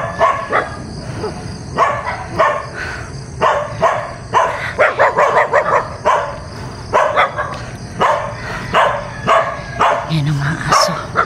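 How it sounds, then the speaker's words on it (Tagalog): Dogs bark repeatedly near a highway, sharp barks and yips in irregular bursts, with voices talking in the background. "Yan ang mga aso."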